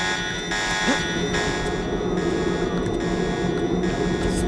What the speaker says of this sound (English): I'm really, really sorry about this alarm.